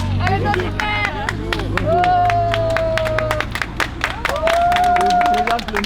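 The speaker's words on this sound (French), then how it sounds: "Applaudissez, applaudissez." A crowd applauds the mayor at a Chasselay walking event, with steady dense clapping throughout, voices in the foreground and bright whistle-like tones drifting over the applause.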